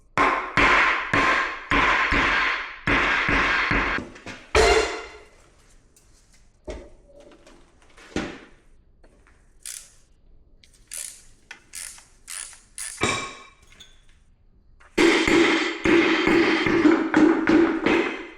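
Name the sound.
hammering seized pistons out of a rare Edsel engine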